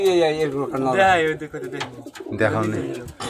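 Big domestic pigeons give several deep, rolling coos up close, the phrases swelling and dipping across a few seconds, mixed with a person talking nearby.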